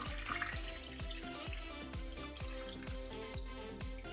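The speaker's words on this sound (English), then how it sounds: "Then I'm going to add in enough water to cover all the pork ribs." Water poured steadily from a tap into a saucepan holding pork ribs, a continuous close splashing rush that does not let up.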